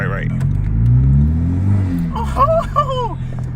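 A turbocharged car rolls along with a low, swelling engine rumble heard from inside, rising and easing as it is driven, while people talk over it toward the end.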